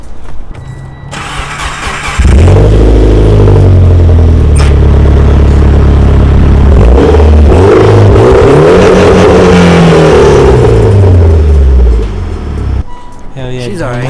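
A car engine cranks and catches, then revs hard through several loud rising and falling sweeps before settling back toward idle, close and dominant throughout.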